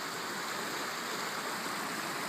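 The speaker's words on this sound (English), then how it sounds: "there's considerably more flow through the Cascades than water flowing through the actual river" Water rushes through the Argo Cascades as a dense, steady hiss of flowing water, loud and unbroken from start to finish.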